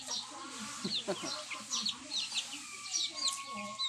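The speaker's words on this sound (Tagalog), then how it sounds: "Pabor naman sa mga manok nito gawa ng may mga damo." Chickens cluck and chirp repeatedly through the clip, close by, with soft background noise and brief faint voice-like sounds.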